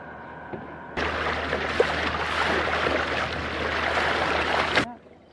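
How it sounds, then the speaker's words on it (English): A wooden felucca sailing boat on the Nile at Aswan, heard as a steady rushing wash of water and wind, with a low engine-like hum underneath. The wash starts abruptly and cuts off after about four seconds. "We're on a felucca on the Nile at Aswan"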